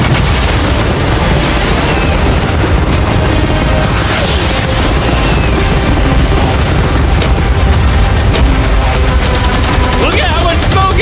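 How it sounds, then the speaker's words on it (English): A dense, loud barrage of cannon blasts, firework bangs and booms fired all at once at a yacht rolls on without pause, with shouting voices mixed into the din. "I want you to launch cannons, fireworks, arrows, catapults, everything at the same time"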